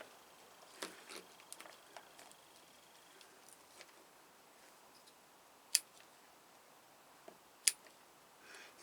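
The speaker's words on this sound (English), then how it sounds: "Just snip them back." Scissors snipping back the green stem ends of Cattleya orchids, a few faint, sparse clicks spread over quiet background hiss, with no talking.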